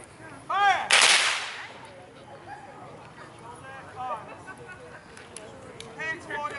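A single loud, sharp musket volley from reenactment soldiers crackles out close by and fades into a ringing echo. A voice calls a command just before it, and other voices talk afterward.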